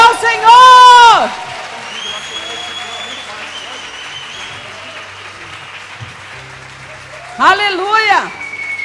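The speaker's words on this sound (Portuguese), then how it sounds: "Aplauda ao Senhor!" A church congregation applauds in a sustained wash of clapping and crowd noise, with a loud voice shouting over it at the start and again near the end.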